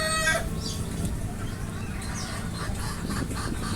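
Desi chickens on a small egg farm, hens clucking and a rooster crowing faintly over a steady noisy background, brief and soft.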